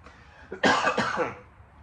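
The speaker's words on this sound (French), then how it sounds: "d'un moment à l'autre, je vais tousser" A single close, harsh cough bursts out, followed by a short breathy tail, with no talking.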